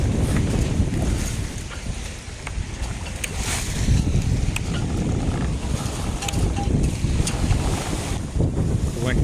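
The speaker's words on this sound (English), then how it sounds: "The wind has eased enough to increase sail, but it's quite cold." Strong wind at sea buffets a sailing boat on a cold southerly, loud continuous gusting and microphone rumble mixed with wave wash around the hull.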